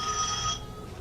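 A telephone rings once in a short burst, a bright electronic trill that cuts off quickly and leaves a quiet room, with no one speaking.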